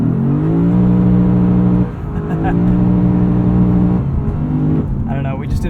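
A 2021 Lexus RC F launches hard with launch control on wet pavement, its engine note climbing loud and close through several rising pulls, with a brief break between them.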